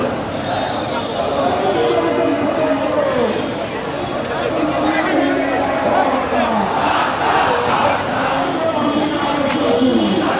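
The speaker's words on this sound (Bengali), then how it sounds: "সেই মিছিলটি দেখছি যে পল্টন মোড়ে আবারও এগিয়ে যাচ্ছে" A large crowd on an Islamic Andolan protest march fills a street in Dhaka with a dense, continuous roar of chanting and shouting voices, loud and close, with a reporter's voice in the mix.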